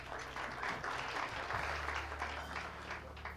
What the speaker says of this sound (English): A round of applause for one of Kenya's greatest talents.